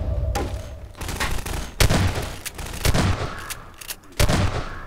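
Gunfire from the video game Half-Life 2: Lost Coast, with several sharp, loud shots and bursts spread unevenly over a few seconds over a steady low in-game background hum.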